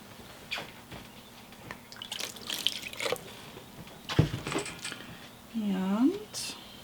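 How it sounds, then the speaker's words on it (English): Water is poured into a horned frog's dish until it spills over onto the enclosure substrate, brief splashy trickles and drips heard close up between bits of quiet talk, with a short squeaky sound near the end. "Substrate's a little dry, so I'm gonna overflow the water dish"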